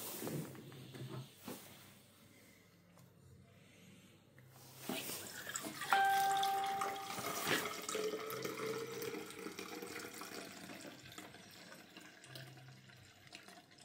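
Tap water running into a container to fill it to 300 ml while developing black-and-white 35mm film late at night, a hissing flow that swells louder midway and continues steadily, with some handling noises.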